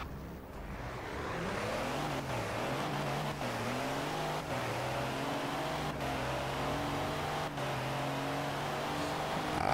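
Diesel car in Forza Horizon 4 pulling away hard from a standstill, the engine note climbing steadily through the gears with brief shift dips, loud and continuous with no talk.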